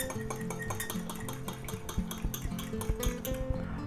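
Clinking of a spoon stirring marinade with red pepper flakes and cayenne in a bowl for London broil, with repeated close metallic taps and scraping in a steady rhythm, no talking.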